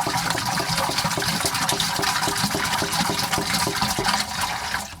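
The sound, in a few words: water poured into a nutrient tank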